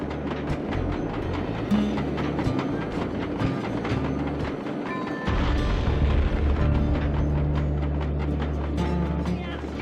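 Train cars from a video game roll steadily on rails, a loud continuous rumble with clickety-clack and metallic clanks, over a low droning tone, with no voices over it.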